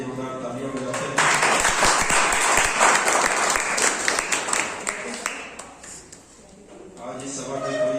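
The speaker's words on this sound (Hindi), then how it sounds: "आइए हम सब लोग उस जीवित और सच्चे खुदा के लिए जोरदार तालियों बजाते हैं" A congregation at a Sunday church service bursts into loud, sustained clapping that swells, thins out and fades, with a voice speaking over the start and again as it dies down.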